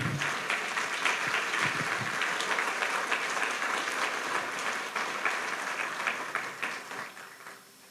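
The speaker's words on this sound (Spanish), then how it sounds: "Dale un aplauso al Señor" A church congregation breaks into sustained applause for the Lord during a sermon, dense clapping filling the room steadily before thinning and fading out near the end.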